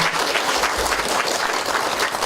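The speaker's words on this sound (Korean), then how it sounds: "강의를 해주신 김홍걸 민화협 상임대표이장에게 다시 한번 큰 박수 부탁드리겠습니다" Audience applause after a lecture, a dense, even burst of many hands clapping together, loud and sustained for a couple of seconds without any talking.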